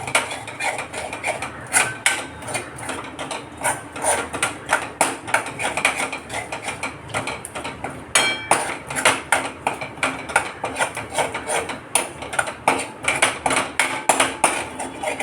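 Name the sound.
stirring moong dal roasting in ghee in a pan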